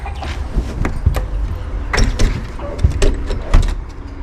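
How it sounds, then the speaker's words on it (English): Someone handles and closes a door at a meat-chicken coop, producing several close clunks, rattles and scrapes of the latch and frame spread over a few seconds. "Close the door before Tucker gets in"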